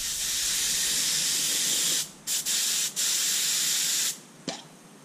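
A spray gun flushes universal ceramic coating out during cleaning, giving loud, close, steady hissing bursts with a few brief gaps and a final stop, and no talking.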